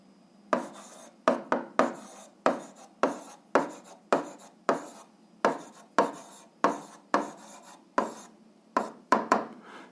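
An equation of a line is written out by hand, with a quick series of close, scratchy pen or chalk strokes in short bursts and brief pauses between them.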